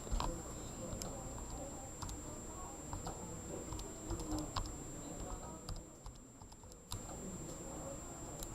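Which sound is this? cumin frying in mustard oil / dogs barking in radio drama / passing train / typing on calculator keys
typing on calculator keys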